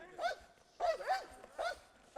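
A military service dog in training for wartime work barks four times at a moderate distance, sharp and evenly spaced, with no talking over it.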